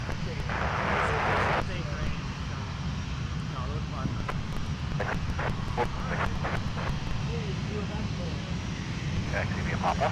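A jet aircraft taxis on a taxiway at Minneapolis–St. Paul airport, its engine a steady broadband roar and whine that holds throughout. A brief louder burst comes early, and faint radio chatter or voices break through now and then.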